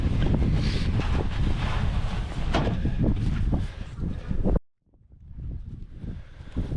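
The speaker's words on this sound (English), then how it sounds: "You can tell it's a lot more windy up here." Strong wind buffets the microphone in loud, rough gusts, then briefly drops away before a quieter rush returns.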